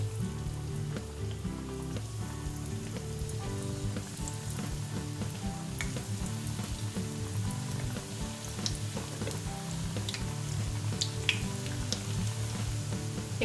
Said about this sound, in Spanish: Y ahora solo nos queda pasarlas por aceite bien caliente.